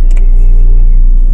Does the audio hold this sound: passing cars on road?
yes